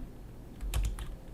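Brief typing on a computer keyboard, a few quick soft key clicks close by over a quiet room hum.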